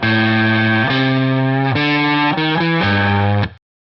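A heavily distorted electric guitar plays a slow riff of sustained power notes, changing pitch every second or so, then cuts off abruptly.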